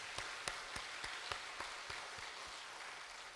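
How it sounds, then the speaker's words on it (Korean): Scattered hand claps over a steady wash of church congregation applause at a Wednesday service, moderately loud and continuous throughout, with a few sharper claps standing out near the start. "여러분 큰 격려의 박수를 해주시길 바랍니다"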